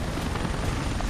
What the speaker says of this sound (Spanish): Me cago en lo poco que me gustan a mí los helicópteros estos